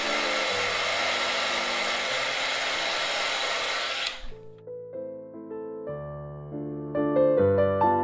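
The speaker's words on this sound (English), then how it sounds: "Let me apply some heat to that area, so it'll be a lot easier to pry up the bottom logic board." A heat gun warms a Galaxy S9 Plus phone to loosen its logic board, a steady loud blowing whir running for about four seconds before cutting off abruptly, followed by quiet music.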